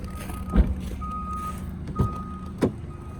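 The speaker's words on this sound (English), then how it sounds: "this will lock the whole car and close the trunk" A 2017 BMW X3 xDrive28i trunk closes with warning beeps: three short beeps spaced apart, each with a mechanical clunk, and a faint motor hum behind them.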